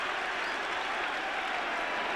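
Spurs supporters applauding a goal at a UEFA Cup semi-final first leg against AC Milan, a dense, steady roar of clapping from a large stadium crowd filling the whole moment.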